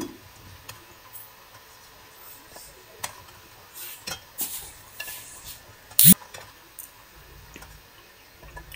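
Bread pieces for gulab jamun stirred in a pan, giving faint, scattered scraping clicks and taps at an uneven pace, with one sharper clack near the end, all fairly quiet.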